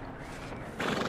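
A horse in the video game Red Dead Redemption 2 whinnies over steady background noise, the neigh swelling louder near the end, with hoof clopping mixed in.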